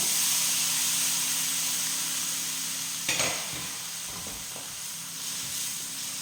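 Tamarind water poured into a hot pan of fried ginger for Kerala inji curry gives a loud, steady hiss. A sharp burst of sizzling and bubbling near the middle then settles to a quieter simmer, with no voices.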